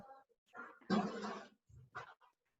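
A small dog yips, whimpers and barks in a few short bursts during an online class, close and clear in an otherwise quiet room.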